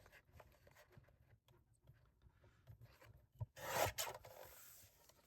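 Paper card is cut down with a trimmer: soft, faint scraping and rubbing, then one short, louder slicing rasp near the end.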